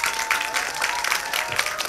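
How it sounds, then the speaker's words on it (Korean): A cinema audience at a Korean film screening talk applauds as the director and two lead actors are welcomed, a loud, dense wash of clapping with occasional cheers, sustained throughout. "여러분 큰 박수 맞으시기 바랍니다"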